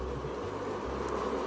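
Honey bees drone in a low, steady hum around an open hive in a beekeeper's apiery, close and continuous, with no voices.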